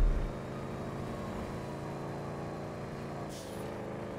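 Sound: turbo car engine in video game GTA 5

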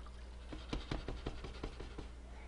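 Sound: water being poured into a cooking pot

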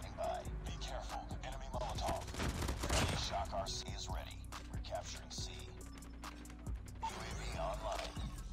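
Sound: QQ9 gun firing in video game Call of Duty Mobile

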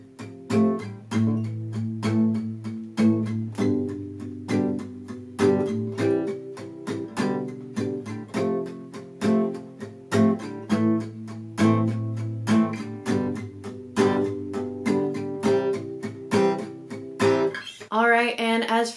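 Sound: guitar playing verse chords of a song

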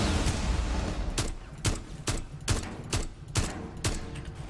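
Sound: Tachanka's mounted gun firing in Rainbow Six Siege video game

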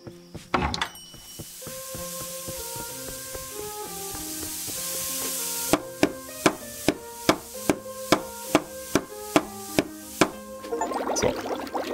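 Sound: chopping with a hoe in the video game Ale & Tale Tavern

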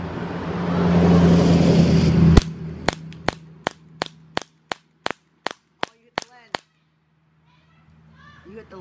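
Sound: gunshot

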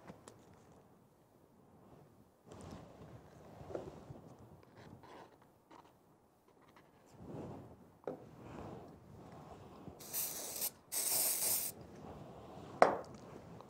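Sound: aerosol spray being sprayed

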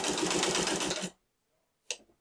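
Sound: sewing machine stitching a martingale collar

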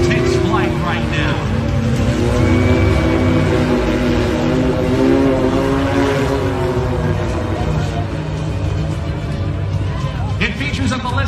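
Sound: Blackfly eight-motor electric flying car taking flight

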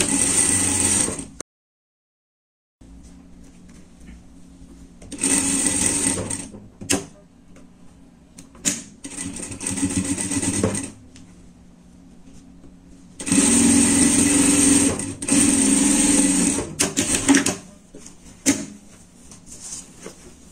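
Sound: sewing machine stitching jacket seam under the arm

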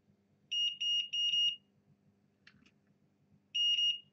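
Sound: multimeter continuity test beep on Yamaha board pad

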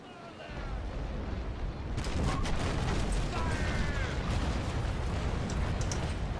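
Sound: cannon broadside firing in the video game Naval Action

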